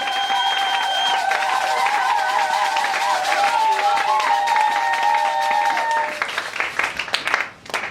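A church congregation applauds at a Sunday service, with steady mixed clapping under sustained singing or music and voices, thinning out near the end.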